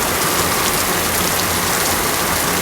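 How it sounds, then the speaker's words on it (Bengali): Light drizzling rain falls as a steady, dense hiss of drops on surfaces, even and close throughout with no other sounds. "ঝিপঝিপ করে বৃষ্টি পড়ছে"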